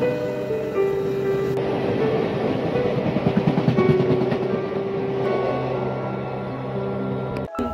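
A train rumbles along the rails with a steady rhythmic clatter of wheels, loud and close, ending with a sharp click, on a journey from Kolkata to Ranchi.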